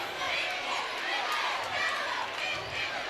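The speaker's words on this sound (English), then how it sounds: "That woke this crowd up." A high school boys basketball tournament crowd at a SEMO conference game, Charleston against NMCC, roars in a dense, steady wall of cheering and chatter that fills the gym for a few seconds.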